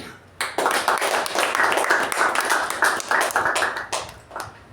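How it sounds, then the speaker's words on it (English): Audience applause at a club meeting, a burst of many hands clapping that starts suddenly and continues steadily at close range, thinning toward the end. "before a speaker, a table topic or anybody, the clapping is little more pleasantly noisy"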